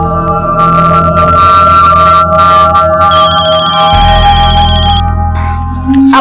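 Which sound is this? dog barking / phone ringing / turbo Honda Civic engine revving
phone ringing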